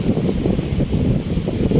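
Steady, heavy wind rumble buffeting the microphone at a cold seashore in Abu Dhabi, a constant low roar with no gaps and no voices.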